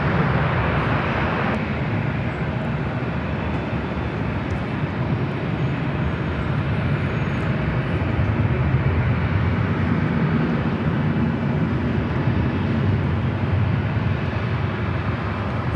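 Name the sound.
Southwest Airlines Boeing 737 MAX 8 taking off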